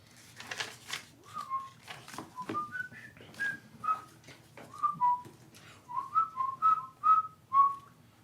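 A person whistles a tune in a clear, bright run of short melodic phrases, close and fairly loud, over faint background game sound, with a bit of talking at the start.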